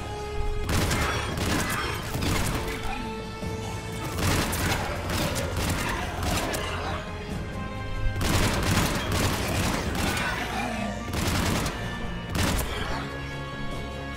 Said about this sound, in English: Sorry, were you shooting me?